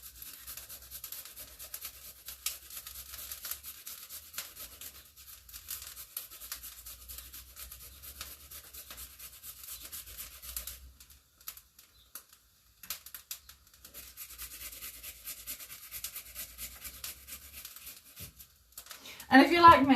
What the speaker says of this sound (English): So I'm just going to grate over a decent chunk.